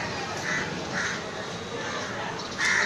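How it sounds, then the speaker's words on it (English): Crows caw repeatedly over a busy outdoor market soundscape, their harsh calls rising above a constant wash of crowd and street noise at moderate distance. "So many crows."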